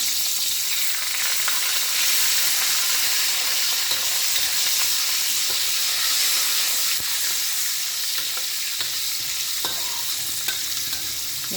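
Oil sizzles and hisses steadily in a pan while something is fried for nasi lemak. The close, constant frying noise carries occasional small pops and stirring clicks, with no talking.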